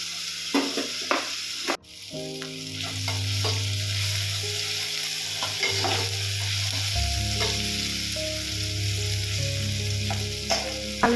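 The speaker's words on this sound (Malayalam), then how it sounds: "ഇത് കുറച്ച് നേരം ഒന്നിങ്ങനെ ലോ ഫ്ലെയിമിലിട്ടിട്ടൊന്ന് വഴറ്റിയെടുക്കാം" Onion and tomato with fennel seeds sauté on a low flame, giving a steady close sizzle with occasional stirring clicks, over a constant low hum that starts after a sharp knock.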